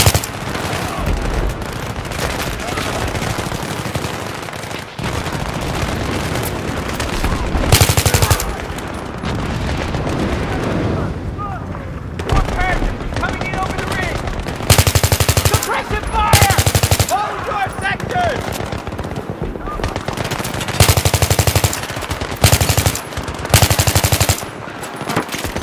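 Sustained machine gun fire in Battlefield 3, with long loud automatic bursts and scattered shots, explosions and booms in a combat scene, while players talk over it at times.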